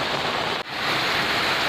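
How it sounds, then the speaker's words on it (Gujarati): Heavy rain pours down in a village, a dense, steady roar of water that stays loud and close throughout, with one brief dip partway through. "ફાઇનલી જુઓ વરસાદે ભૂકા કાઢી નાખ્યા, આડે ધડ પાણી કાઢી નાખ્યા"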